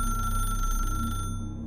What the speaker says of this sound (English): the receiver trembling slightly with each ring